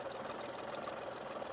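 A Tata Tiago diesel engine idling with the hood open, a low, steady, faint rumble with a mechanical clatter and no break in the hum.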